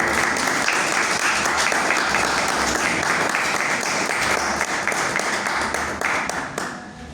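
Audience applause at a presentation in the Museo de la Ciudad in Salta, a steady dense clapping held for several seconds before it thins and fades at the end.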